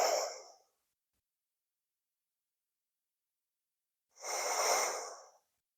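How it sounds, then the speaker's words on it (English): Deep breathing during a yoga class: a long exhale trailing off, a few seconds of silence, then another full, close breath drawn in and released. "Take 3 breaths."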